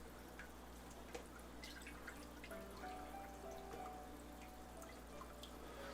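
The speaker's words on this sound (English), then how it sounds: "Just dripping the water back into the tank." Water dripping back into an aquarium tank, faint scattered drips and small splashes over a low steady hum, no voices.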